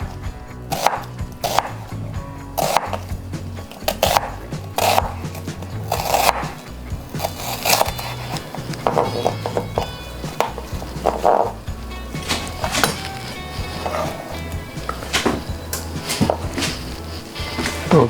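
Knife chopping onions on a cutting board for beef fajitas, a rapid series of sharp wooden knocks in an uneven rhythm, close and fairly loud, with no voices.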